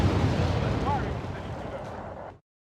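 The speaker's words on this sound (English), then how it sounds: "No, they are just regular artillery." Regular artillery shelling in Wargame Airland Battle, a dense, rumbling barrage of blasts that fills the clip and then cuts off abruptly, loud and close.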